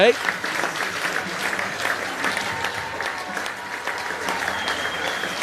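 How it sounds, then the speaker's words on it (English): Stadium crowd applause at the England v Samoa Rugby World Cup 2014 match: a continuous, even roar of clapping from the stands, with a commentator talking over it. "But it's England who applaud the fans here"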